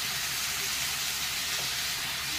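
Ginger, cumin and spice paste sautéing in a hot pan, a steady loud sizzle and hiss throughout, close and unbroken, with no voices.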